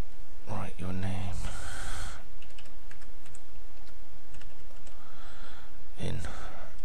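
Close, quick keyboard typing as a character name is entered on a computer during setup for the game Life is Feudal, with bursts of keystrokes and breathing between them and no speech.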